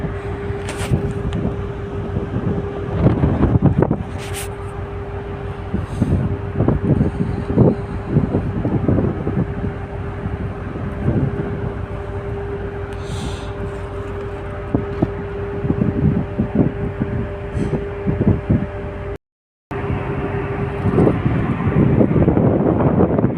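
A pilot boat travels through wind. Steady engine drone and wind buffeting run throughout, with a steady mid tone, gusty bursts and a brief dropout near the end.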